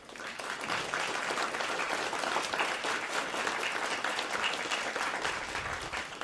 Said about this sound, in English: join me in giving an extra big applause